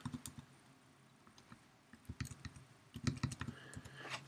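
Quick, light keystrokes on a computer keyboard in irregular bursts of clicks with short pauses, close and fairly quiet, as card details are typed in.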